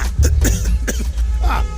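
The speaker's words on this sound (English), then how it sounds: "this kind cough na serious matter" A string of rough coughs from a bus passenger, close and fairly loud, with a low rumble of the bus in the background.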